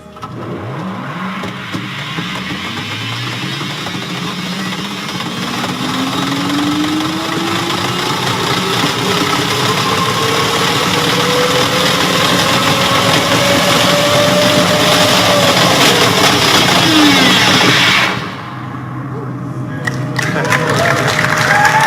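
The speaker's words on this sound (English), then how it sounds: "So that was a video of a test pod ride that we did in the Hyperloop" Test pod ride in the Hyperloop tunnel, a loud, continuous mechanical roar with a whine that climbs and then falls in pitch as the pod speeds up, ending in an abrupt drop to a lower rumble.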